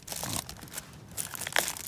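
Crinkling of a plastic Amazon Prime mailing packet made into a pouch insulator with gaffer tape at a rainy clifftop campsite. Close, irregular crackles and rustles, some louder crunchy bursts, no voices.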